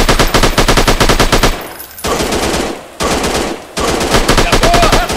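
Rapid machine-gun bursts from the mobile shooter game Sniper 3D, loud and close, fired in several long rattling volleys separated by short pauses.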